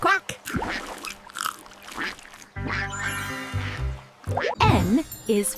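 Playful duck quacks from a kids' phonics song burst out repeatedly between sung lines and bright music, with a cluster of loud nasal quacks near the end.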